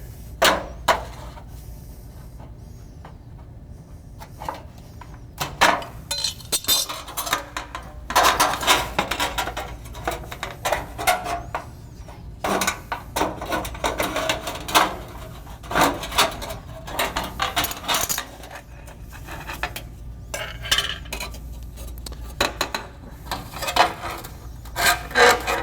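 Metal roof chimney flashing being cut, a long run of rough, scraping and rasping strokes that come in irregular bursts and pauses, close and fairly loud with no talking.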